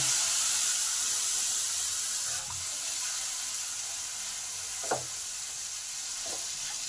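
Tomato paste and spices fry in a pan over a low gas flame, giving a soft, even hiss with a faint stir or utensil knock now and then and no voices.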